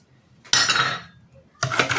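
Cake batter with oil being mixed in a bowl, heard as two loud bursts of scraping and clinking against the bowl separated by a quiet pause, close and with no voices.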